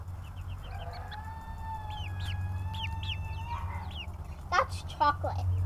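Young chickens cluck and trill near the microphone, with a drawn-out call followed by sharp, brief squawks, while a voice talks briefly over them.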